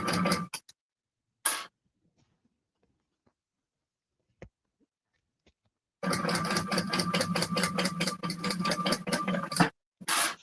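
A sewing machine stitching a bag runs in two bursts, a couple of brief starts early on, then a steady, loud, close whirring rattle for several seconds before stopping, followed by a short restart at the end.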